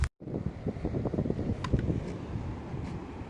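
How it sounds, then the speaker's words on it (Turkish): Gentle wind at sea on the Black Sea rushes across an open microphone with a low, steady rumble, no voices present. "Havada da hafif rüzgar var."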